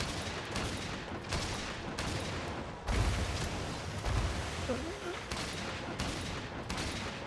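Rapid gunfire rattles in a monster-shooting video game, a steady sustained barrage of shots with a few heavier low thumps, while a voice talks faintly underneath.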